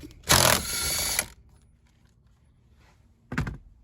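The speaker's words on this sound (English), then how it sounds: "we're gonna go ahead and take our 15/16 socket with our impact and remove this center bolt" Impact wrench with a 15/16 socket zips off the center bolt of a Ford F-150 steering wheel: one loud burst of about a second, then a quiet gap and a short second buzz, close up with no talk.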